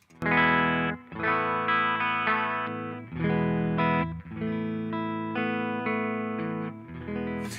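Clean electric guitar chords ring out one after another, each strummed and left to sustain, with a shimmering chorus-like effect and no talking.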